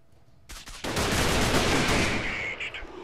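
Gunfire in the video game Freeman Guerrilla Warfare, a dense burst of shots arriving after a short lead-in, holding loud and sustained for about two seconds before tapering into scattered cracks.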